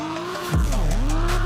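A turbocharged drift car in the Roblox video game revs loudly on a test drive, its engine pitch sweeping down and then climbing again amid tire squeal, with no talk.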